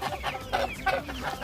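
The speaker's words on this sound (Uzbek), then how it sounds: "Mana bu g'ozlarimiz" Domestic geese call in a burst of several honking, clucking notes close by, uneven and overlapping over about a second and a half.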